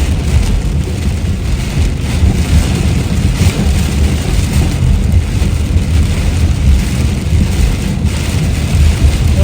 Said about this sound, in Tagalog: Parang binubuhos ang ulan.